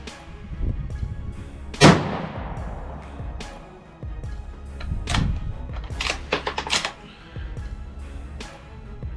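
A hunting gun fires outdoors, one sharp loud report ringing out early, followed by a few fainter sharp cracks and quick clicks of the action later on.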